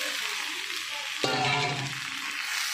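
Cauliflower and potatoes drop into hot spiced oil with a sudden loud sizzle partway through. The frying then settles into a steady crackle while the pieces are stirred.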